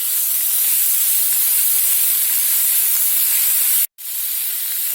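Chopped onions hit hot oil with cumin for a spiny gourd fry, giving a loud, steady sizzling hiss that runs almost unbroken, cuts out briefly near the end, then resumes.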